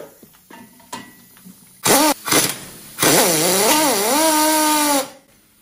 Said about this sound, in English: we're using an impact wrench, which seems to work okay, as long as you don't let it beat too hard